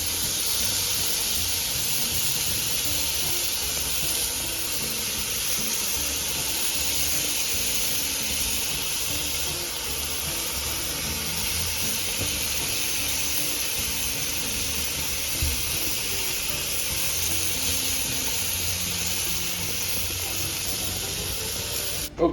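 Grass-fed beef burger patties sizzle steadily in a hot pan, a continuous bright hiss and crackle that stays even and close throughout with no talking over it.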